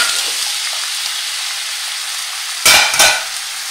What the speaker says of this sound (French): je vais mettre les pommes de terre coupées en petits cubes dans de l'huile